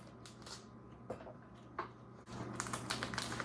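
A knife chops romaine lettuce on a cutting board in a quick run of close, crisp taps, pausing briefly midway before another burst of rapid cuts.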